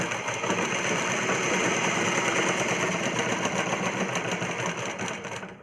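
A sewing machine stitches a plain cross-cut blouse, running continuously with a steady, loud, close mechanical whir and rapid needle chatter and no pauses.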